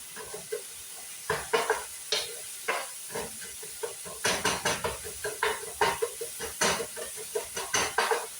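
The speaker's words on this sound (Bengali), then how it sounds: "টমেটোটা ভালো করে মিক্সড করে নিলাম বড়াটা দিয়ে" Tomatoes being stirred with a spatula in a hot frying pan: a steady sizzle runs throughout, broken by repeated close scraping and clattering strokes that come faster and louder toward the end, with no talking.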